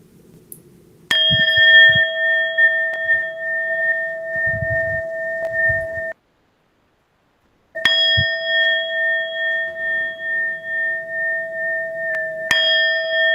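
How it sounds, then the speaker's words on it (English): A meditation bell rings with clear, sustained metallic tones, struck twice with a long decaying hum after each strike and a short silence between, then struck again near the end; loud and alone. "As you listen to the bell"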